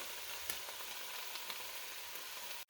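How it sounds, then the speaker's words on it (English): Vegetables sautéing in a pan, a faint, even sizzle with light ticks and pops throughout, ending in a sudden click. "continue to saute this until it starts to get a little soft"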